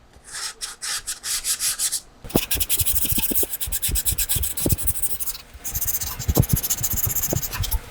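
Hand sanding works the corners of a Flying V guitar kit body with short, rhythmic rasping strokes, a pause, then faster back-and-forth rubbing, close and clear with no talk.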